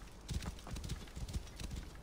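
Horse hooves gallop in Assassin's Creed Origins across a sandy desert, a quick rhythmic series of muffled thuds at moderate distance, mostly alone with little else around them.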